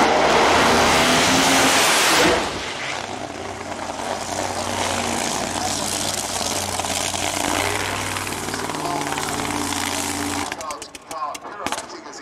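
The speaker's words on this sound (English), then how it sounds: "the car spins out of control" A race car loses a rear wheel and spins out of control, with a loud, steady engine roar that eases slightly after the first couple of seconds and breaks into choppy bursts near the end.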